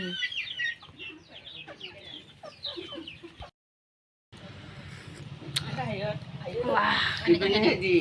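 Several chickens at a tea garden cluck and chatter close by, a busy run of short calls that breaks for a brief silence and then grows louder and denser.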